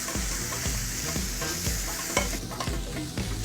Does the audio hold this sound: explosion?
no